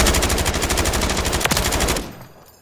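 A rapid, loud burst of machine gun fire from the Call of Duty MW3 video game, an evenly spaced rattle for about two seconds before it cuts off into a faint tail.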